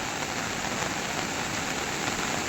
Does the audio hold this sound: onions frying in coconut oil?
no